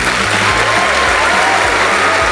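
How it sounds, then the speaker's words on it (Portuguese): Audience at a live comedy show applauding, a dense steady clapping from a crowd that fills the whole moment at full volume. "Senhoras e senhores, palmas pra neta."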